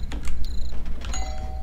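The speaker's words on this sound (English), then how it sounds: "Ring the doorbell, Will." Doorbell chime in Garry's Mod during a Halloween trick-or-treat horror game, two sustained bright electronic dings ringing close and clear over low background rumble, with no talk.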